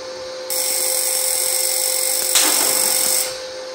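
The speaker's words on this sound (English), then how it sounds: "You hear that? It's sparking in there" A high-frequency start circuit on a TIG stick welder sparks across a gap to the workpiece, giving a steady, loud, shrill buzzing hiss that comes on abruptly, peaks in a brief crackling surge, then cuts off.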